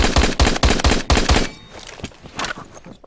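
Six rapid, loud MSG 90 rifle shots in the video game Phantom Forces, fired in a quick even rhythm, then quieter game ambience with a couple of faint distant thuds.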